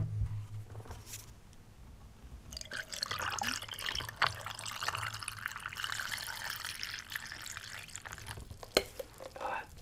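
Water poured into a bottle of Ocean Spray tropical juice, a hissing trickle and gurgle that rises and fades with small drips and clinks, close and fairly quiet.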